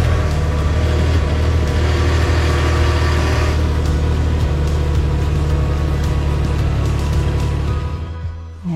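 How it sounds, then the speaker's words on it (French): A Can-Am Ryker three-wheeled motorcycle engine idles steadily just after an oil change, a continuous close mechanical hum and rumble that holds for most of the stretch before easing off at the very end. "Donc je vais faire tourner le moteur."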